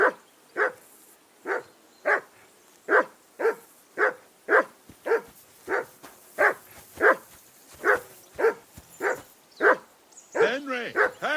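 In the Kingdom Come Deliverance 2 video game, a dog barks about twenty times in a regular, close rhythm, then breaks into whimpering yelps near the end.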